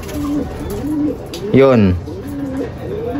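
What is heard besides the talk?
red factor pet bird cooing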